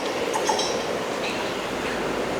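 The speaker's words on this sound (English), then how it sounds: "There we go, there, it's ended. End of the freight train." Freight train rolling past a station on the Mid Cheshire line, a steady broadband rumble and rush with faint metallic clinks and squeaks from the wagons, continuous and close, with no one talking.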